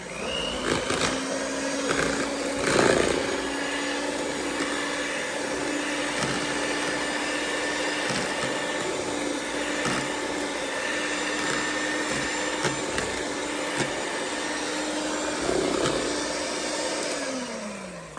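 An electric mixer whirs steadily through cheesecake batter as eggs are blended in, a loud continuous motor hum with a steady pitch and occasional bumps from the beaters against the bowl, with no one speaking.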